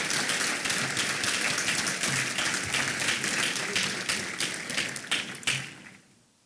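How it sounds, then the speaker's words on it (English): An audience at an award ceremony claps steadily, a dense close patter of many hands that thins into a few scattered claps and fades out. "can we give all these ladies a round of applause?"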